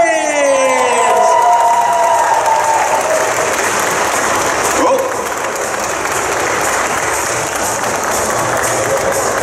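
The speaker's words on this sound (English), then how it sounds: "All you have to do is give applause and love and make our guests" A large Comic Con audience in Brussels bursts into loud applause and cheering as a guest is introduced, over the tail end of music, with whoops and crowd noise keeping the ovation going.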